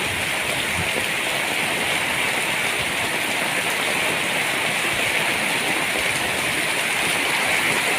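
Steady heavy rain falling outdoors, a dense continuous hiss that stays loud and unbroken throughout with no voices over it.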